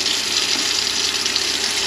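Water pours from a tap in a camper in a loud, steady hiss that stays even throughout.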